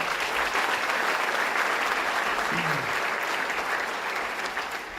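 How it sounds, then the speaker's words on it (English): Sustained applause from a crowd, steady clapping filling the whole stretch and tapering slightly toward the end. "Let's give him a round of applause."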